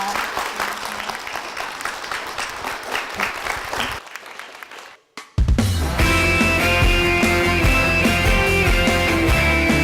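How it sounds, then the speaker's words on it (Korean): Church congregation applauds warmly to bless a family, a dense wash of clapping that breaks off into a brief hush before music swells in. "축복의 박수 부탁드립니다"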